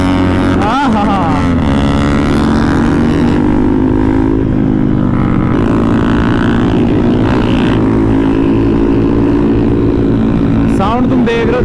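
Several motorcycles fitted with full-system aftermarket exhausts rev together on a group ride, a loud, steady, layered engine roar with rising and falling pitch swells throughout.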